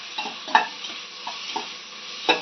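Onion, tomato and green chilli sauté in a pan with a soft sizzle under repeated scraping stirs of a spoon against the metal, close and with no talk.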